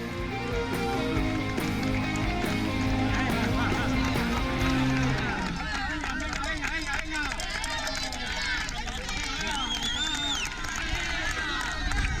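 Spectators at the Zegama trail race in the Basque mountains cheer runners with a continuous loud roar, with music fading in the first five seconds before the crowd noise swells alone.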